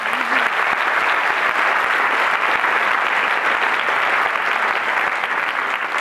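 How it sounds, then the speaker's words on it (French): Loud, steady applause from a conference audience in Montpellier welcoming guest professors, dense clapping sustained for six seconds without any speech. "le professeur Dufaux du CHU de Montpellier, qu'on peut également applaudir bien fort."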